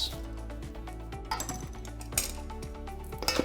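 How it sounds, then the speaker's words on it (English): Utensils clink and scrape against a bowl while a sweet and spicy prawn salad with coriander, chili and honey is tossed, giving irregular light metallic taps and chimes with quiet pauses between. "There you go, just mix it well together."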